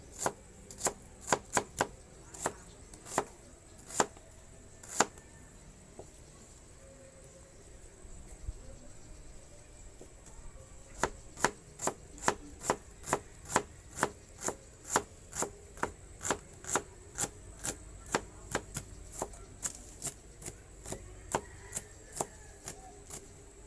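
Onions diced finely with a knife on a cutting board while making cheesy egg lumpia: sharp, rapid chops in quick bursts, with a short pause, then a long steady run of evenly spaced cuts, close and clear.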